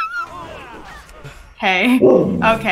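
A pet husky barks and yips in short, whining bursts near the microphone in the second half, while people talk over and between the barks.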